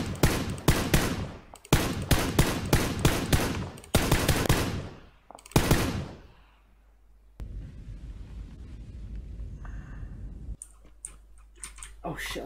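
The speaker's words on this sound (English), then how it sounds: "Where's he shooting me from?" PUBG game gunfire: loud, close automatic bursts fire in several rapid volleys, then fade to quieter ambience, with a few faint shots returning near the end.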